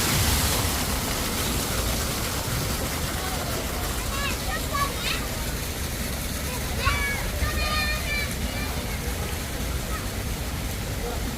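Water jets splashing at a children's outdoor water playground in summer in Seoul, a steady broad hiss of falling water with scattered faint children's shrieks and voices in the background.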